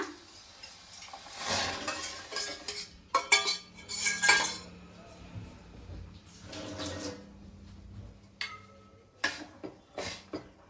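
Spoon scraping and clinking in a metal pot while stirring mashed cooked lentils into pineapple rasam, with irregular knocks and clatters of varying loudness and quiet gaps between, close by.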